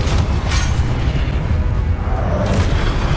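A Repulso spell blast in Hogwarts Legacy, a loud close booming burst with a rumbling low body and a sharp whoosh at the start, followed by a second surge near the end.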